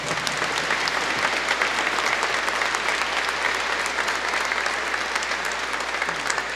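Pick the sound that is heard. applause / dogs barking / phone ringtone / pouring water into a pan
applause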